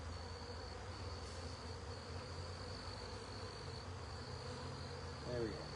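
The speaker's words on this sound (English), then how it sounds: "And so now the bees will start fanning that she's right in here." Honey bees buzzing at a hive during an April hive check, a dense continuous hum of many wings, steady and fairly faint, with no talking.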